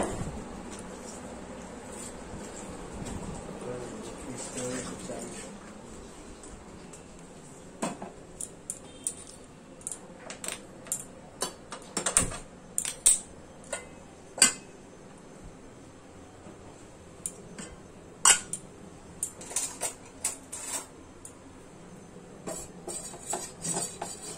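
A dal bowl being taken out in a home kitchen, heard as scattered clinks, taps and knocks of dishware, quiet at first and then in sharp, irregular bursts.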